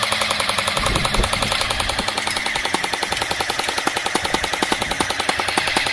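Airsoft AK-style Kalashnikov replica firing in full-auto burst mode, a rapid continuous stream of sharp, evenly spaced shots, loud and close, with no talk.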